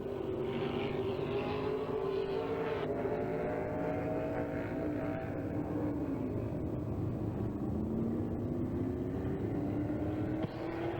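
A 1995 dirt race car at Hagerstown Speedway runs a time-trial lap, its engine a steady, loud drone with shifting pitch as it circles the track, continuous and unbroken throughout.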